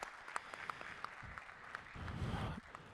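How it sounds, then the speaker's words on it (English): A crowd claps in sustained applause at a golf association annual meeting, swelling a little louder toward the end, heard from some distance in a large room. "Let's give you a round of applause."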